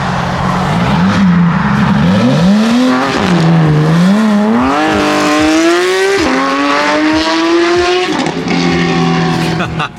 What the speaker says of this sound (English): That's literally a race car on the street.